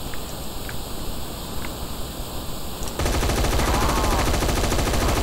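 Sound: M16 gunfire in Roblox zombie video game

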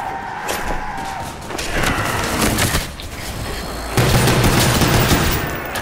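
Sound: gunfire shooting zombies in Call of Duty Black Ops Zombies video game

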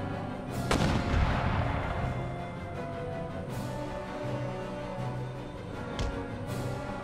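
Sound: howitzer artillery firing in Empire: Total War video game

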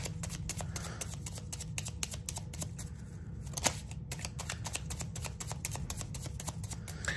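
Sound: shuffling tarot cards

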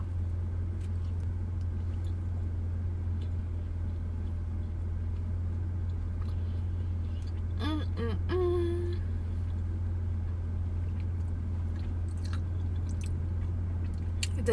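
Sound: chewing a Starbucks cinnamon raisin bagel

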